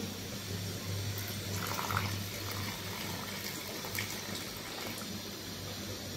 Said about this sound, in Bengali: এবার আমি এখানে একটু জল অ্যাড করব।